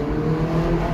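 Ferrari 458 Italia sports car fitted with a Capristo exhaust accelerating, apparently in a tunnel, a loud, steady, dense engine roar held close and unbroken for a second, with no voices.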